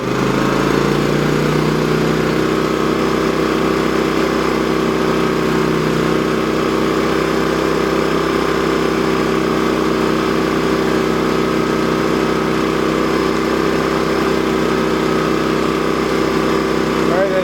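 Champion 3400-watt dual fuel generator running steadily after starting without the choke, a loud, constant close engine drone with a voice talking over it.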